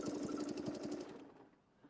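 Sewing machine stitching along a marked template line on a quilting project, running in a fast, even burst of needle strokes for about a second before stopping, followed by quiet handling.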